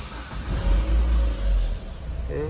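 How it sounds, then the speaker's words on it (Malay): Car engine started for a check on a leaking air-conditioning system, a deep loud rumble swelling as the engine catches and revs, then easing off into a steadier idle, close up with no talk. "So kita start engine dulu."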